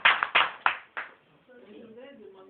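A congregation at a French evangelical service applauds the Lord with four loud claps in quick succession, then fading into a murmur of voices and faint singing.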